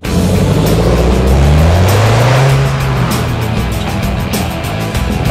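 A Renault Clio RS hot hatch driving, its engine roaring loud and close throughout, pitch climbing as it accelerates then holding under steady road and wind noise, with no talk.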